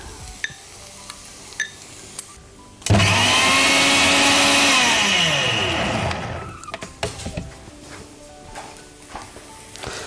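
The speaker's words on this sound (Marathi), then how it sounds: "हे जे आपलं मसाल्याचं भांडं आहे मिक्सरचं त्यामध्येच आपण टोमॅटो ॲड करून घेऊयात" A mixer grinder roars loudly for about three seconds while pureeing tomatoes, its whine dropping in pitch as it slows, with light clinking before and after.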